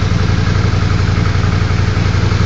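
A Honda GL500 motorcycle engine idles steadily and loudly up close, its even low pulsing running unbroken with no speech.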